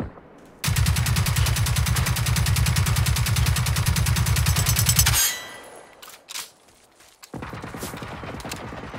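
Sustained machine gun fire aimed at robots in the Generation Zero shooter: a loud, rapid, continuous stream of shots lasting several seconds, then a pause and a few scattered sounds before another burst begins.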